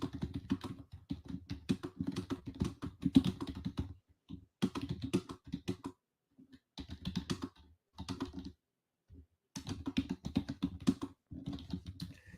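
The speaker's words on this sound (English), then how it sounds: "So I just typed something else." Close computer keyboard typing during an online WebEx session, with rapid bursts of clicky keystrokes broken by short pauses and gaps, heard alone without talking.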